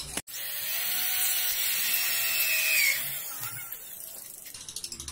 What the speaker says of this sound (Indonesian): kemudian kita bor